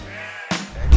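A Dorper sheep gives a short bleat, close and clear, with a second brief cry starting at the end amid faint farm background noise.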